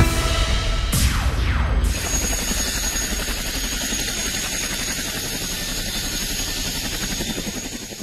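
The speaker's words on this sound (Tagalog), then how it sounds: "Pagkababa sa CH-47 Chinook helicopter" A CH-47 Chinook military helicopter at a Philippine Army and US forces exercise on Calayan Island, Cagayan, as a loud, close, steady rotor drone with a sweeping whine early on and no voices.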